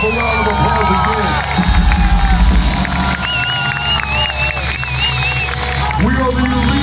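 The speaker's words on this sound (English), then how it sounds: "Give yourself a round of applause again." Loud concert crowd cheering and whooping after a show in Lima, Peru, a dense roar of voices with a low rumble throughout.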